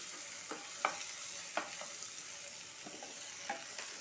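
Chopped tomatoes being sautéed in a pan for a homemade sago biryani, a soft steady sizzle with a few sharp clinks of a spoon stirring against the pan, close and alone without talk.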